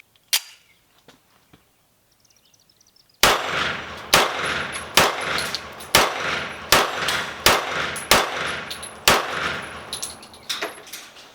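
Taurus PT1911 pistol fired, a rapid string of about nine loud, sharp shots at a steady pace, each ringing out with echoing tails, preceded by a few faint handling clicks.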